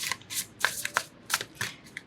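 Tarot cards are shuffled and drawn close by in a run of crisp riffling bursts and flicks, irregular but quick, with short quiet gaps and no talking.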